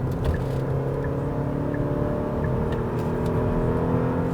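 A 2020 Kia Cadenza 2.5 family sedan accelerating, heard from inside the cabin: a steady, droning engine hum with a rising whir, continuous and moderately loud, with no talking.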